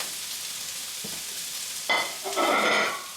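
Vegetables being stir-fried in a wok, a steady frying hiss broken by a brief clatter of stirring and then a louder burst of sizzling, close by with no talking.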